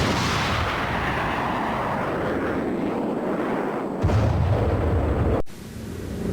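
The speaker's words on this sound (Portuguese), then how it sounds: "entrou agora a artilharia a abrir caminho para companhias de caçadores" Artillery shells pound the Pedra Verde base in a continuous dense roar of distant bombardment, a heavier low blast hitting near the end before an abrupt cut.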